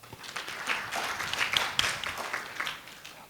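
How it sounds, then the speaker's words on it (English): An audience at a refugee-led youth organization's tenth anniversary event in Uganda claps together in a steady burst of applause that lasts throughout. "Clap for that."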